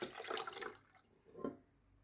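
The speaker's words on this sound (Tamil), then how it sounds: "1 லிட்டர் பால் குக்கரில் ஊற்றுறேன்." One liter of milk is poured into a pressure cooker in a home kitchen, giving a short liquid splash and gurgle, then a brief second splash after a pause, close and fairly quiet.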